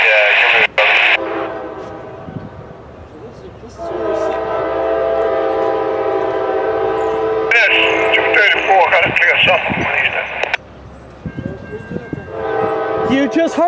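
Norfolk Southern train NS 234 led by a Dash 9W locomotive, with long sustained horn blasts over rumbling rail noise, loud and near, a radio voice and talk also heard.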